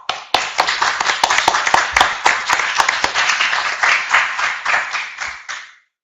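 Audience applause at a Spanish-language talk or panel, a dense spread of many hands clapping steadily for about five seconds before fading out, with no speech.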